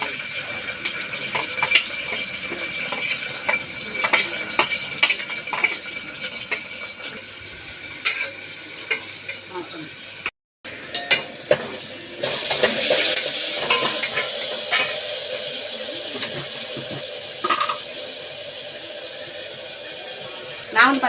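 Curry is tempered in a frying pan at home, with hot oil sizzling, a spoon scraping and stirring in repeated strokes, and brief running water nearby. A loud hiss flares midway as ingredients hit the pan, and a person talks over it.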